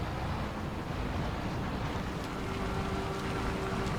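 A waterfall in the Farming Simulator 25 video game, on the Riccis Mountain map, gives a constant broadband rush of falling water, steady and fairly loud, with no voices.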